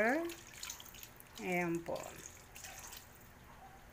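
Water runs into a simmering pot of Filipino paksiw na pata, a faint steady trickle beneath a woman's brief spoken words, heard close by.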